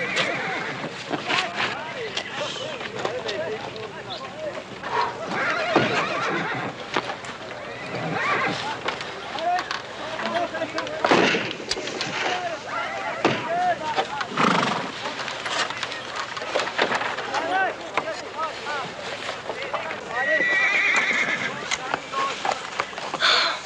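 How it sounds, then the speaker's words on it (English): A bucking bronco neighs and whinnies amid rough thudding hooves, with shouts and voices mixed through a busy outdoor scene, the commotion rising and falling over twenty seconds. "I never dreamed I'd ever see a bucking bronco."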